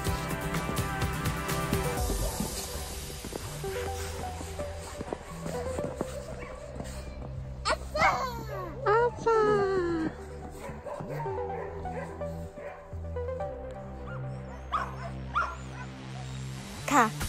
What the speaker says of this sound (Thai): เจ้าหน้าที่ก็กำลังเตรียมความพร้อมของสุนัขอยู่นะคะ